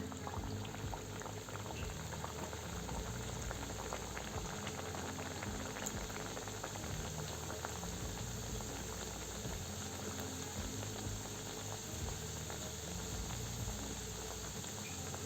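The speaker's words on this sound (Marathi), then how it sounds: "आता तेलामध्ये तळून घेऊ तेल गरम झालेलं आहे मीडियम गॅसच ठेवायचं आणि अशी करंजी टाकायची" Karanji pastries fry in hot oil over medium heat, a dense, steady bubbling sizzle that holds evenly and close throughout.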